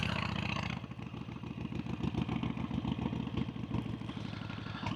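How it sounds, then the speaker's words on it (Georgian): Motorcycle engine running at a Black Bells camp in Aspindza, a close, steady clattering idle with rapid regular firing pulses that shift slightly after the first second. "ჩემი მოტო ძალიან მაგარ ხოძეა"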